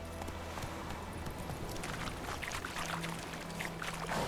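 Roach the horse galloping in The Witcher 3, a steady clip-clop of hooves running over dense game ambience and music, no speech.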